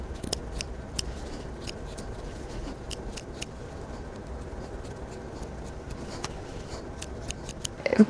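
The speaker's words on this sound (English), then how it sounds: "I'm just gonna unseam this and like cut out all of these seams" Scissors snipping through the seams of a chunky knitted sweater, a brisk irregular series of sharp close-up cuts over a quiet room tone.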